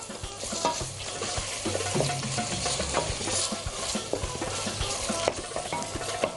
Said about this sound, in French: On essaye de mélanger 1 minute à peu près avant de rajouter un peu d'eau.